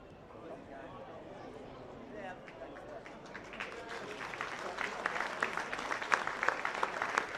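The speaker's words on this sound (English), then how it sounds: "A warm round of applause as Alex Fickner comes off the field" Stadium crowd at a Lions v Perth Glory Australia Cup football match applauding as an injured player leaves the field, steady distant clapping swelling louder toward the end.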